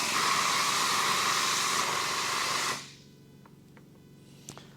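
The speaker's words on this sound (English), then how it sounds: "I thought my air compressor just died, but maybe it just idled." A workshop air compressor runs with a loud, steady broadband whir that abruptly winds down and cuts off partway through, leaving quiet room tone with a few faint clicks and knocks.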